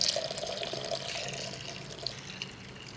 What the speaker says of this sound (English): we can now pour the pickling liquid into a heat-proof measuring cup